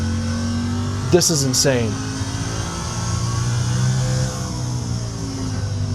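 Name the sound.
car engine revving in a racing video game on a MOZA sim rig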